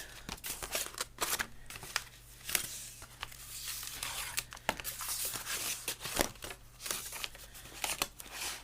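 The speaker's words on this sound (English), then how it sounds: "I've just got some double-sided sticky tape, and I'm just going to run that all the way around the edges" Double-sided sticky tape is pulled and pressed around the edges of a junk journal cover, giving close, faint crackles, rips and papery rustles in irregular bursts with quiet gaps.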